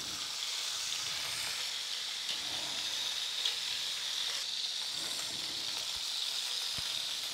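Beef short ribs searing in a Dutch oven give a steady, even sizzling hiss that runs unbroken throughout, fairly soft and close, with no voices over it.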